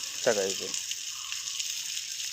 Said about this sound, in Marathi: त्यामध्ये आपण बांगडा फ्राय करण्यासाठी ठेवत आहोत